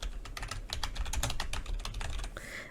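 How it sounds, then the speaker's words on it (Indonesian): Rapid typing on a computer keyboard as an answer is entered in an online learning platform, a dense run of close, crisp key clicks ending in a brief softer sound. "Di sini akan dicoba mengetik saja jawaban langsung."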